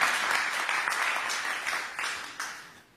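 A church congregation applauding for a pastor during a service, a dense patter of clapping that gradually thins and fades out over a few seconds.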